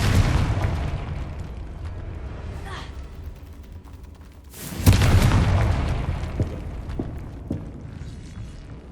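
A Confringo blasting spell explodes in the video game Hogwarts Legacy, one loud booming burst near the middle that rolls off slowly over a busy, rumbling game soundscape, with fainter pops and hits before and after.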